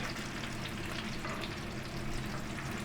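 Tomatoes sizzle and crackle in a hot pan, a steady, close frying sound with small pops throughout and no voices.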